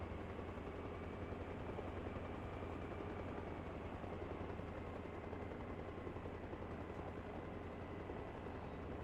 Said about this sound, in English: slowly the helicopter begins to stop